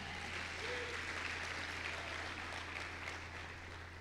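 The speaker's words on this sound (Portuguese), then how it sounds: "Vamos dar um aplauso a Jesus por isto?" A church congregation applauds Jesus during a sermon, a steady wash of many hands clapping together from a moderate distance, with a low hum running underneath and no voices on top.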